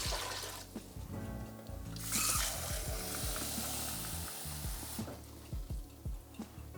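Water poured steadily from a container into a cooking pot to start a fish stock, a broad rushing, splashing stream that swells briefly midway and then settles, with no talking.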